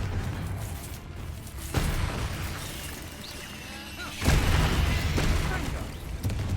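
Confringo fire-blasting spells explode in the Hogwarts Legacy video game, two loud bursts a couple of seconds apart, each followed by sustained crackling rumble amid game battle noise.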